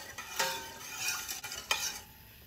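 A spoon scrapes and swishes through rice with salt and water in a pot in a few quick strokes, close up, with a soft hiss underneath.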